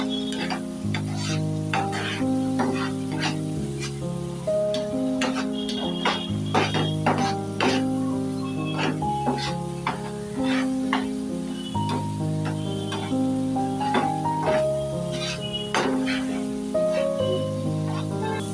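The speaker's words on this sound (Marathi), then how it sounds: "आता हे तेलावर ना छान आपल्याला परतवत राहायचं आहे" A masala paste for squid is stirred and fried in oil, a steady sizzle broken by repeated rhythmic scraping and clinking strokes of a spoon against the pan, close and continuous.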